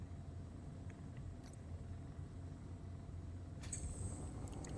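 Game spaceship lifting off its deck on vertical thrusters after one rear landing gear unlocks: a steady low engine rumble throughout, swelling slightly near the end with a brief higher whine, no talk.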